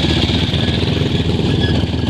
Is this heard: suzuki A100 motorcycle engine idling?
yes